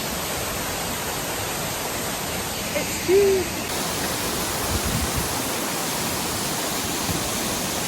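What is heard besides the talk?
waterfall in Scotland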